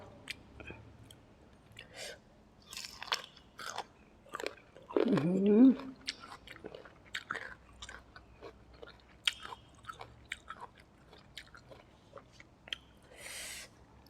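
Crunchy green mango eaten with sweet fish sauce, close and crisp bites followed by repeated chewing crunches, one louder burst in the middle, with a little quiet voice.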